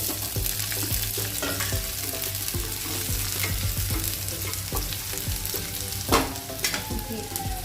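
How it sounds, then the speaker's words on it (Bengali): Chopped onion fries in hot oil with bay leaf and cumin, giving a dense continuous sizzle with frequent scraping and stirring clicks, plus a sharper pop or knock about three quarters of the way through. "পেঁয়াজটা এখন একটু ভাজা হোক"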